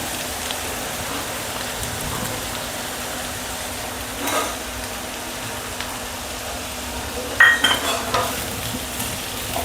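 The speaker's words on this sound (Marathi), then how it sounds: "पनीर टाकते" Paneer sizzling in hot oil in a pan as soya fried rice is cooked, a steady crackling hiss throughout with a few louder stirring scrapes and clatters.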